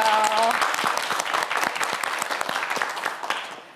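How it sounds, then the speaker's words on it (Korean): Studio audience applauding on a Korean TV quiz show, a dense burst of clapping that starts strong and slowly thins over a few seconds, with a brief tone at the very start. "큰 박수 보내주세요."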